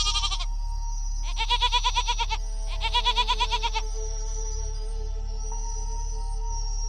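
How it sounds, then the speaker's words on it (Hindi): A goat bleats loudly at night in a village, giving three wavering, trembling cries, one brief and two longer, close by over a constant low electronic hum. "तभी अचानक रात में बकरी जोर जोर से बोलने लगता है।"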